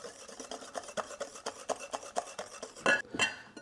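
Carrot cake cupcake batter being mixed by hand in a bowl until smooth, giving quiet, regular scraping and tapping strokes from the utensil against the bowl. The strokes repeat at a steady rhythm, ending with a couple of sharper knocks.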